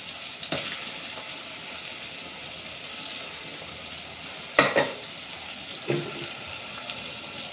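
Ginger paste frying with browned onions for pulao masala, a steady close sizzle with a few clanks and stirring scrapes of a utensil against the pan.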